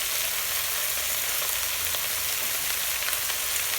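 Amaranth greens (arai keerai) sauté in a hot pan with a steady, even sizzle of frying throughout, close and continuous, with no voices.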